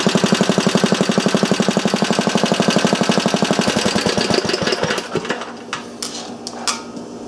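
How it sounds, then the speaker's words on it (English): Small engine with a cast tin baffle muffler running with a rapid, even metallic putter that slows, stumbles and dies into scattered clanks and rattles near the end. "What it sounds like with a tin baffle."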